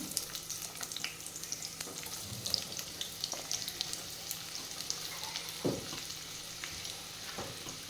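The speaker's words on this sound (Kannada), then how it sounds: "ಆನಿಯನನ್ನು ಹಾಕ್ತಾ ಇದ್ದೀನಿ." Onions frying in a pan give a faint, steady sizzle and crackle at a slight distance. A few soft clinks and scrapes come through now and then.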